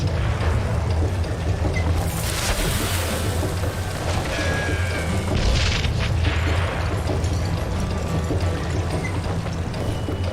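Dynamite blast in The Dark Pictures, a deep rumbling boom with a burst of crackling debris that settles into a steady roar like pouring rain or falling rubble, loud and sustained throughout.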